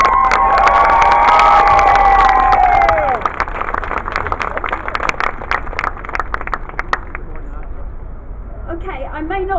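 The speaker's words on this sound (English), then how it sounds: "Our next speaker, I want you to give her a big cheer." A crowd at the Bairns Not Bombs rally in Glasgow in 2015 cheers and shouts loudly to welcome a speaker. The roar fades after a few seconds into sustained clapping with scattered whoops.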